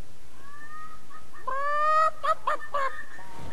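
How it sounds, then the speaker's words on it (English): Chickens cluck in the video game Fable III, a short series of several close, clear clucks and squawks heard alone without talk. "Hey, look, chickens."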